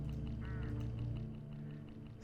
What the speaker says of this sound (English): Hooded crows all along this road.